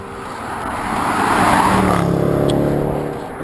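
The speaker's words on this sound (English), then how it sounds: "When you get your cars like that, it'll pass you by about 2 foot." A car passes close by a runner on a road, its engine and tyre noise swelling to a loud peak mid-way and then fading as it moves off.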